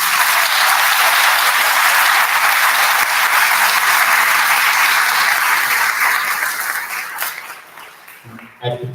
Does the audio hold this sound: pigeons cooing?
no